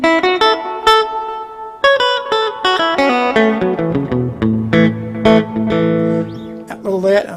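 Clean electric guitar notes plucked one after another through a tape Echoplex echo, each trailing into soft repeating echoes that smear into a warm, sustained wash.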